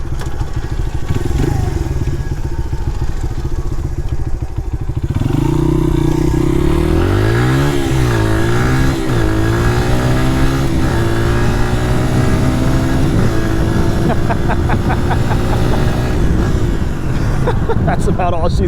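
A Honda XR100 motorcycle, revived after sitting unstarted for 17 years and showing very low hours, runs close by while ridden. Its engine revs rise and fall in steady sweeps, with a rough, continuous drone throughout.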